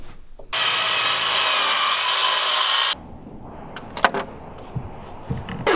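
A power saw whines loudly through wood during house construction for about two seconds, then cuts off, followed by scattered knocks and handling of the cut piece.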